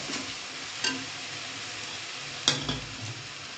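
Chicken curry ingredients sautéing in a pan for a Tamil country-chicken kulambu, a low continuous sizzle broken by a few sharp scrapes of stirring, no talk.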